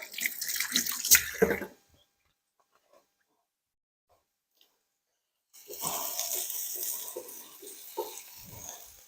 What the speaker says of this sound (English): Just get my hands a little rinse.